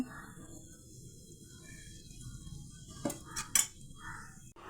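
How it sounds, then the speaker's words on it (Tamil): A metal pan, oiled for tempering a fish curry, clanks a few times against the stovetop, sharp and close, over a quiet low hum, followed by a light scrape. "இப்போ குழம்பு தாளிக்கிறதுக்கு சட்டியில் கொஞ்சம் எண்ணெய் ஊற்றிக்கோங்க."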